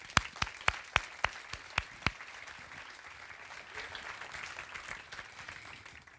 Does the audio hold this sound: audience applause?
yes